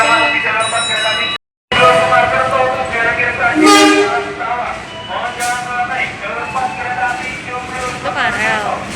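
An electric KRL commuter train in Indonesia rolls past close by, with humming motors, screeching wheels and a horn toot, while people talk over it.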